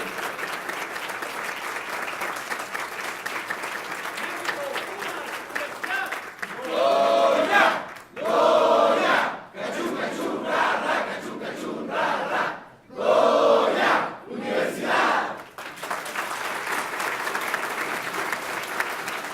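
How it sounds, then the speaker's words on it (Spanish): Sustained loud applause with cheering from the audience at a tribute to Minister José Ramón Cossío at the UNAM Law Faculty, a dense crowd roar with swells of shouting rising and falling. "Tributemos el más fuerte de nuestros aplausos y reconocimiento al ministro José Ramón Cosío."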